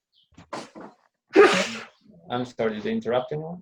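One sharp, loud sneeze bursts out between short stretches of speech from a person at a gathering, with quiet talk before it and more talking right after.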